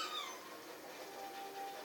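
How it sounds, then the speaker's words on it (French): A house cat meows indoors, a drawn-out call with falling pitch followed by softer vocal sounds, fairly faint and alone. "Ah merde, le chat."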